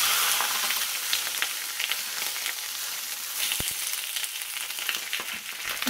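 Sea bass fillets fry skin side down in hot oil in a pan, giving a steady, dense sizzle and crackle that carries on unbroken for several seconds with no one talking.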